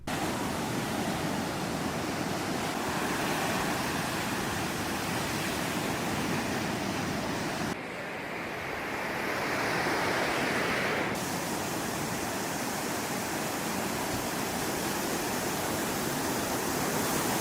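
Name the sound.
glowing blue ocean waves breaking on shore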